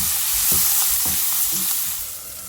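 Vegetables sizzle and fry in a pan with a lid while a spoon stirs them in a few scraping strokes, close and steady, with no talk.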